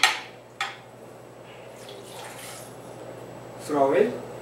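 Water rinsing rice bran off freshly polished rice in a sake factory, soft splashing and trickling with a few sharp drips at the start and a louder gush near the end, fairly faint.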